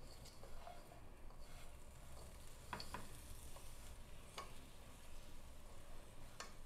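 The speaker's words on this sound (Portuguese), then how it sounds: "E vamos mexer." Feijão tropeiro with fresh coriander and chives is stirred in a pan, with soft scraping and occasional sharp spoon clicks over a low, quiet sizzle.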